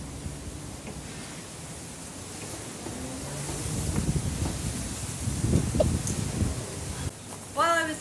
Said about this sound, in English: the wind here in Tracy is a bit much